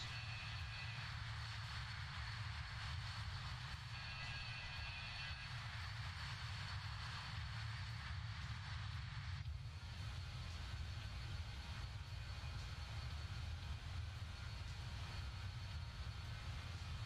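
Steady, faint engine drone of a BAE 146-300 cargo jet cruising in a flight simulator, a continuous hum with no pauses and no talk.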